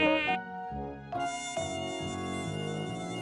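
A mosquito buzzes as a steady, whining drone that shifts pitch a few times, heard alone and fairly close with no voices over it.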